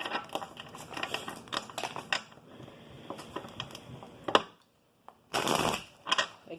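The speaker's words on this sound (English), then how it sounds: "I'm going to do a few shuffles on camera and then split the deck" Deck of cards being shuffled by hand, close up, with several bursts of rapid riffling and crisp card flicks separated by brief pauses, including a short silent gap before a final loud riffle.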